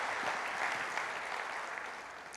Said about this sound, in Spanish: Alguien dele un aplauso al Señor.